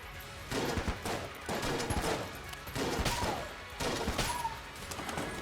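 Shotgun gunfire in the Enter the Gungeon video game, repeated bursts of blasts roughly every second amid a busy mix of game effects, loud and continuous.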